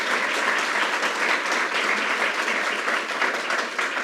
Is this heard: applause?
yes